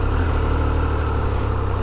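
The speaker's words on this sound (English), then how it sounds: "let's start it up and have a listen to that beautiful triple engine" A Triumph Speed Triple RR motorcycle's three-cylinder engine runs close by, a deep, steady, throbbing idle filling the short stretch with no voices.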